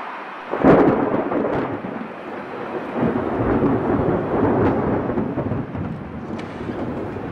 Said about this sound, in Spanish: Se nos viene la tormenta, ¿eh?